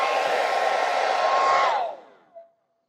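A hair dryer on high, powered by a Pecron E1000 portable power station, roars steadily, then abruptly cuts out as the station overloads and winds down, followed by a brief faint electronic tone.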